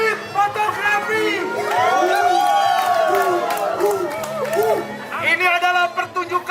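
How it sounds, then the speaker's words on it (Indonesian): Audience at an outdoor street theatre festival in Braga bursts into sustained cheering and applause, a loud crowd roar with shouts and claps swelling in the middle and tapering at the end. "Beri tepuk tangan buat Sofia"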